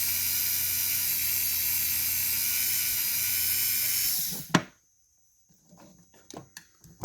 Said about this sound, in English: the sanding wheel isn't getting him too good